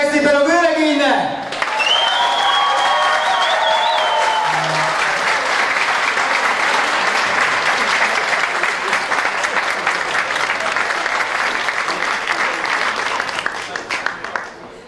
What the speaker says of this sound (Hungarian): Nagy tapsot kérek szépen a vőlegénynek!